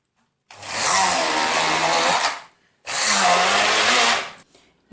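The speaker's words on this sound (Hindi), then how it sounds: "तो मैं इसको हैंड ब्लेंडर से अभी क्या कहते हैं पीस लेती हूँ।" A handheld immersion blender purees boiled tomatoes in two loud, steady bursts of whirring motor noise with a short pause between them, close up and with no talking.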